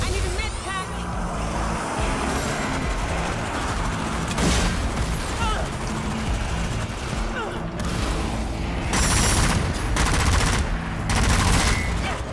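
Heavy sustained gunfire in Zombie Army 4 roars throughout, loud and near, with overlapping bursts and booms that swell in intensity late on.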